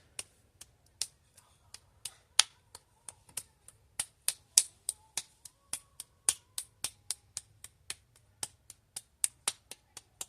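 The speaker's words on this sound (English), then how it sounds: "You're going to want to throw the ball and clap it." A ball of pottery clay being shaped for wheel throwing, tossed and clapped between the hands: a run of sharp, dry slaps at a quick, uneven rhythm, close and fairly quiet, against near silence.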